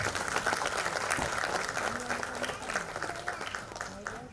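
Loud, sustained applause from a crowd at an event stage, dense clapping throughout at a steady level, with some voices mixed in.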